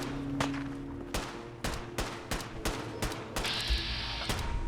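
Gunfire in Fallout 4: about ten sharp, evenly spaced shots crack out one after another over a low rumbling background, loud and close, with no voices.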